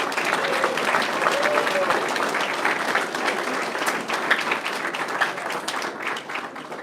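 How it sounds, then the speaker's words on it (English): Audience applause for a family at a high school signing day, a dense steady wash of many hands clapping that runs the whole length and tapers slightly at the end, with a voice briefly audible underneath. "Let's give that family a round of applause"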